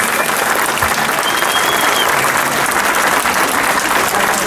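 A crowd at a Bodrum and Muğla party gathering breaks into loud, sustained applause, a thick unbroken roar of clapping close and full from start to finish.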